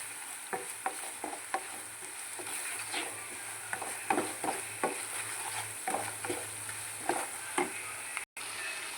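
Tuna pickle masala sizzles faintly in a pan while a spoon scrapes and taps it in irregular strokes, with the frying hiss continuing quietly underneath.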